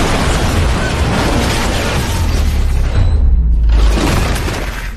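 Fuel and bomb explosions in a film fight boom loudly and continuously, a heavy rumbling roar with a brief dip before another deep blast.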